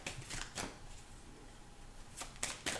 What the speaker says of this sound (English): I've seen that twice while I'm shuffling here.